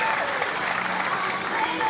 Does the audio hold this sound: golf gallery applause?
yes